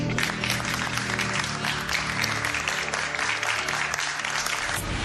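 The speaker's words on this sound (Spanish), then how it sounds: "Les vamos a dar un aplauso." Steady, dense applause from an audience fills the whole stretch without a break, with a low musical bed running underneath.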